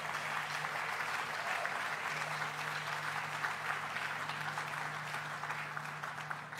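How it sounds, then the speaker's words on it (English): Steady, dense applause from an audience at the opening of the Tribeca Film Festival, sustained at an even level throughout with a faint low hum beneath. "Let's give her a big round of applause."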